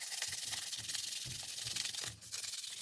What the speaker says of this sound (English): Let's sand this now. I'm just using 600.